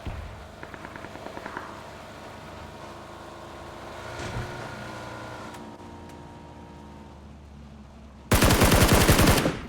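Gunfire in the PUBG video game: a quiet rumbling game ambience with a few light clicks, then a loud, rapid automatic burst of shots fills the final second and a half.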